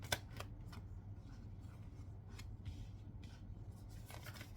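Angel oracle cards being shuffled by hand, a soft continuous riffling and sliding with a few sharper flicks, close and quiet over a low steady background hum.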